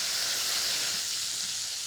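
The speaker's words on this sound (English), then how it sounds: "I have balsamic vinegar here, so I'm just gonna add a splash. And the acidity deglazes the pan." Balsamic vinegar is splashed into a hot pan of onions to deglaze it, giving a steady, loud, hissing sizzle up close.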